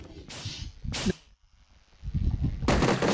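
Jackhammer gun firing in Minecraft, the JokerZ server version 1.7–1.8, with three loud, broad cracking bursts separated by short gaps.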